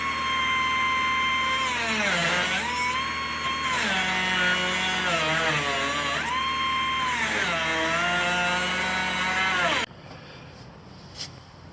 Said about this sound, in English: But I have to get my cutoff saw.